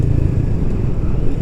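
A Triumph 400 motorcycle engine hums while riding, a loud, steady low rumble with an even drone and no distinct thumping beats, with no voices over it.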